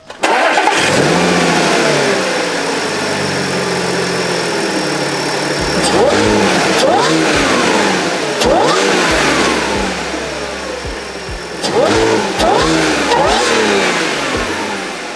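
A supercharged car engine fires up and revs repeatedly through a loud exhaust, with rising and falling sweeps in several bursts, close and dominant throughout with no talk.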